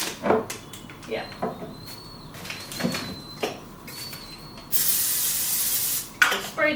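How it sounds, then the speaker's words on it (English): Cooking oil sprayed from a can onto a pan in a home kitchen: a steady, loud hiss lasting about a second and a half, preceded by scattered clatter and brief bursts of kitchen noise. "So spray the pan."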